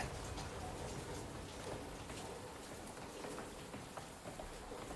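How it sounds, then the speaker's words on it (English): Steady rain falling in a video game trailer, a dense even hiss with scattered drop ticks at constant loudness throughout. "Nice rain. Rain is hard to get right."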